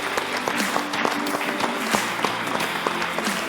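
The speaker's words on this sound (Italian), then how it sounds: "Facciamo un applauso a Riccardo." Studio audience applauding a guest on a local sports television show, a steady dense patter of clapping at moderate level with faint background voices.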